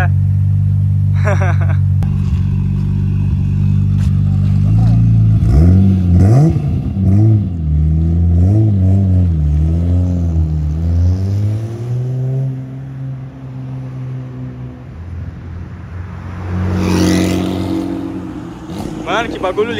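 A modified Toyota Supra engine revs hard and bounces off the rev limiter, loud and close, with a deep rumble rising into repeated stuttering cuts before dropping back to idle, while voices chatter around it.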